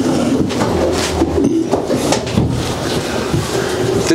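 Racing pigeons coo inside a loft, a steady layered murmur of low throaty calls, close and continuous, with faint rustling underneath.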